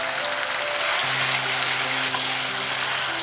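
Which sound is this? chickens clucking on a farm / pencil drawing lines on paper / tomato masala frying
tomato masala frying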